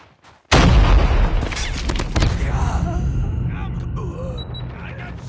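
A grenade explodes in Call of Duty Mobile: one sudden, loud, close boom after a brief quiet, trailing into a long rumbling decay while faint game sounds and voices carry on underneath.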